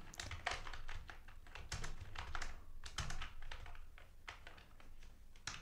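Close, quiet typing on a computer keyboard, an irregular run of soft key clicks and taps in short bursts with brief pauses, no talking.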